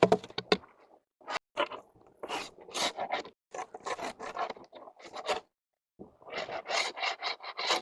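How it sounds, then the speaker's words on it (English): A tool scrapes propolis off a wooden beehive inner lid in repeated rough, rasping strokes, close and fairly loud, with short pauses between bursts. "all I'm doing is scraping the propolis off because I'm flipping this inner lid back over"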